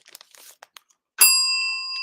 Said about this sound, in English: then I ring the bell anyway